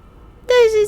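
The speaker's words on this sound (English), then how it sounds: "This is the sound of a puppy!" A puppy in a visual novel video game gives a single drawn-out whimper that starts abruptly after a moment of silence and slides gently downward in pitch.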